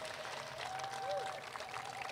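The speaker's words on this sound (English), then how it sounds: "a nice round of applause for all of our speakers today" Audience applause for the speakers at the close of a Toronto housing presentation, a steady wash of clapping from a crowd lasting the whole moment, with a faint whistle-like tone over it.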